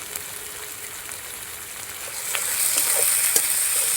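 Spices with red chilli powder and green chilli paste sizzle in a frying pan, a steady close crackling hiss that grows louder and busier partway through, with a few sharper pops.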